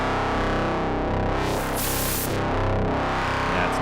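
A rich, dense FM synthesizer patch from the FM-8 soft synth sustains steadily at full level for about four seconds, with a thick, distorted-sounding tone and no voices.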